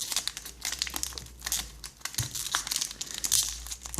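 Japanese Pokémon Shiny Collection booster packs ripped open by hand, giving dense close crinkling and tearing foil rustles in irregular bursts over about four seconds, with no voices.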